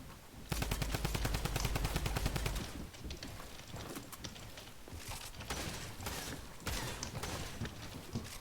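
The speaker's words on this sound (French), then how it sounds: "Là, il fait la sniper lourde, du coup." Rapid, dense gunfire from Fortnite, with a heavy sniper rifle firing among other shots: a loud sustained burst at the start, then repeated sharp cracks and thumps continuing throughout with no talk.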